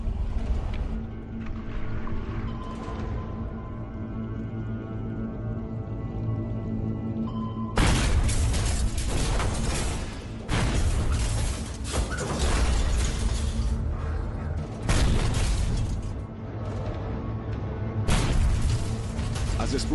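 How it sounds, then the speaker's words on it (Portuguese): Eight depth charges dropped by a tanker escort explode around the submarine USS Silversides in the Pacific in 1942. A low mechanical hum gives way to loud, sustained broadband blasts and rumbling that keep surging in repeated waves. "a escolta do petroleiro cruza a popa do Silversides e lança 8 bombas de profundidade"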